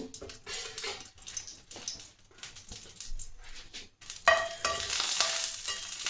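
Two dried red chillies go into hot mustard oil. Faint kitchen clatter gives way to a sudden loud, hissing sizzle that keeps going steadily, close by.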